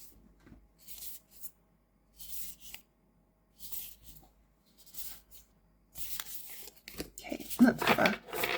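A Winnie the Pooh tarot deck printed on thick cardstock is shuffled in short, crisp bursts of riffling and sliding card sounds, close and fairly quiet, with brief silences between the shuffles.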